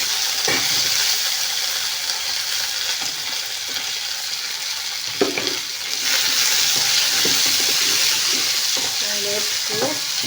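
Large onions and small shallots fry in a pan with a loud, continuous sizzle, while stirring adds scraping and clattering throughout.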